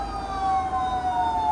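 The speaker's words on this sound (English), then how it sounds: "Oh, look, a fire truck." A fire truck siren wails as the truck passes, its pitch sliding slowly downward, heard alone at moderate distance over low road rumble.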